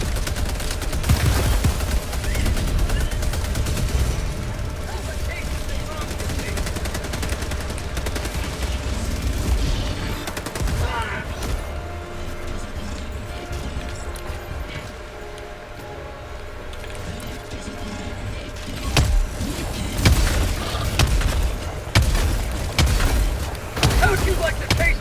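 Shotgun blasts and other gunfire in the Helldivers 2 video game, loud repeated bursts of firing with booms across a dense, busy battle mix, with voices talking in places.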